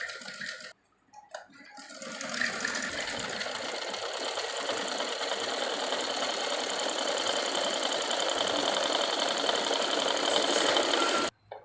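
Sewing machine stitching the belt of a baby dress, running steadily and loudly up close after a brief pause near the start, then stopping abruptly at the end.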